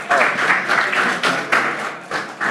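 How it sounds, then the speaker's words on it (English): Audience applause at a keynote talk on a tokenized Bitcoin mining protocol, a dense, steady wash of many hands clapping that swells and dips over a couple of seconds, fairly loud and close, with no talk over it. "Please, big round of applause."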